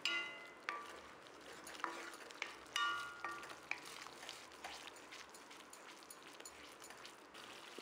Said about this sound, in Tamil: இதை மிக்ஸ் பண்ணிவிட்டு ஒரு நிமிஷம் கொதிக்கட்டும்.